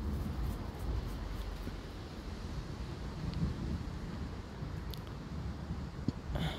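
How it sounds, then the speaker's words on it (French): Wind blows during a strong thunderstorm on a September night, a steady, gusty rush buffeting the microphone throughout, with a few faint clicks and no talking. "le vent commence à souffler"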